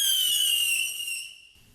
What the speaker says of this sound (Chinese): 放鞭炮赶猴子哦！